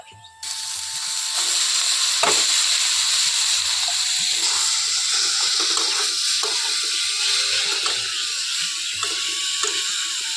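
Boiled papaya stem and potato pieces drop into hot spices frying in a pan, setting off a loud, steady sizzle and hiss that continues alongside a few scraping clanks.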